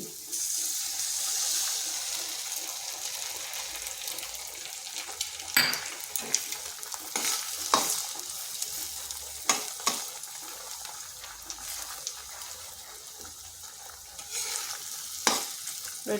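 Eggs and onion fry together in a pan under a steady sizzle, with a utensil clacking and scraping at irregular intervals, close and moderately loud, no talking.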